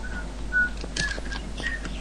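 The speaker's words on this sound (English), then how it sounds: "Don't whistle! It makes me feel like you're behind me." Short, thin whistled tones come and go over a noisy background, a few faint pitched notes with scattered clicks.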